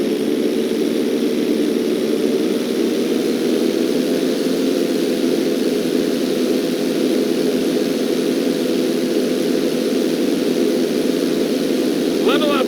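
Propeller airplane in a GTA 5 flight school mission holding a knife-edge maneuver, with a steady, even engine drone and airflow rush throughout.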